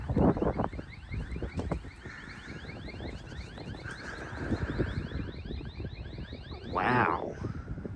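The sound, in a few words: alarm going off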